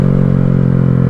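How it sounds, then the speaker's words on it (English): A 2020 Honda Grom motorcycle engine drones loudly and close during a downshift throttle blip, a brief, steady buzzing hum. "right around here I'm gonna blip it again"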